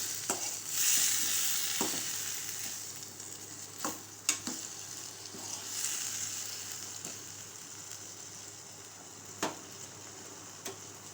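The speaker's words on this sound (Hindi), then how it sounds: "अब हम इसमें आलू डाल देंगे और इसको मिक्स कर लेंगे, थोड़ा सा सौते करेंगे।" Potatoes being sautéed and mixed in a pan for aloo bhujiya, a soft continuous sizzle broken by intermittent clicks and scrapes of a spoon stirring against the metal.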